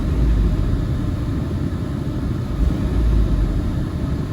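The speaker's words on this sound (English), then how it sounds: "Best thing to do is to give it some revs." A 2007–2011 Jeep Wrangler engine runs at a steady, loud, low rumble with a slight swell partway through, held up in revs during a heater core flush.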